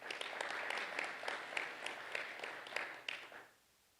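Conference audience applauding a speaker, a dense wash of many hands clapping steadily for several seconds before it tapers off and stops near the end.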